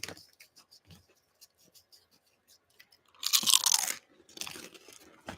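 Kettle-style potato chips crunch close to the mic, a run of soft taps and then loud, bright crunching bursts of chewing that fade into quieter munching.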